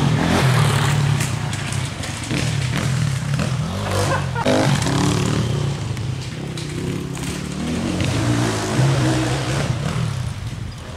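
Motorcycle engine at a BHR test day, loud and continuous, its throttle overdone so the revs surge and sputter unevenly throughout, with a steady low drone and bursts of mechanical clatter.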